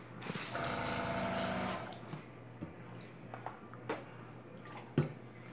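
An airbrush sprays thin, ink-like transparent paint at about 25 psi while making custom fishing tackle, a loud close hiss for under two seconds, then quiet clicks and small handling taps.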